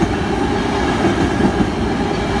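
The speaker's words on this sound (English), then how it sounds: "So here it is, the train." A train passing near the beach in San Diego, a loud, steady close rumble of rail cars rolling by with faint clickety-clack and no voices.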